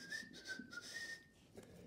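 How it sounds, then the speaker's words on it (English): A whistling pipe plays a short, thin, slightly wavering melody line alone in a home setting, quiet and close. "So, I brought my whistling pipe with me"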